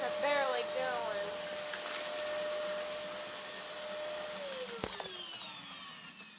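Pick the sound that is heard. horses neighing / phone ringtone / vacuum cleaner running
vacuum cleaner running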